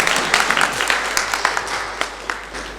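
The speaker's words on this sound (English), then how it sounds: "We all give a big clap." An audience at a medical society annual general meeting and oration applauds with steady, moderately loud clapping from a full room, continuing for the whole stretch without speech.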